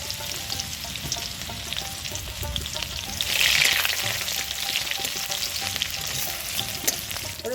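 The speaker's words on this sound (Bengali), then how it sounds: "রসুনটা হালকা ভাজা করা হয়ে গেছে" Crushed garlic fries in mustard oil in a wok with dried chilli and black cumin, a steady close sizzle and crackle that swells briefly midway, with faint stirring.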